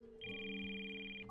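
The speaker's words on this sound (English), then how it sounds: "Oh, sorry. That's my phone." A cartoon telephone ringing from inside a purse makes one steady electronic ring tone lasting about a second, quiet and slightly muffled, with no voices over it.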